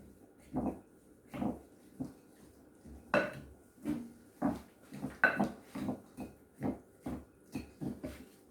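An egg is mixed into turkey stuffing in a bowl, with a regular series of soft, wet squelching strokes and light clinks of utensil against the dish, close and fairly quiet.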